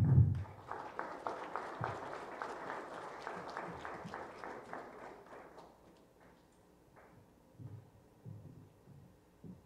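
Audience applause for a lecturer at a conference on the 2024 electoral process fills a hall, loud and dense at first, then thinning into scattered claps and faint shuffling as it fades.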